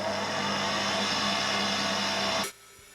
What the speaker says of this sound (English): I'm going to slowly add this while whisking this.